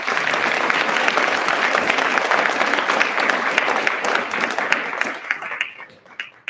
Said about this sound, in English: Could you guys join me in giving a round of applause for all of our panel speakers?